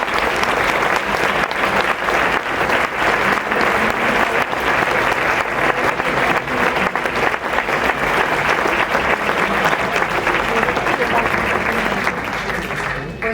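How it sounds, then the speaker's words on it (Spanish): Sustained audience applause at a gathering honoring survivors and daughters of the Spanish exile: dense, steady clapping from a full room that continues at an even level for the whole stretch and tapers slightly at the very end. "Un aplauso para todos ellos."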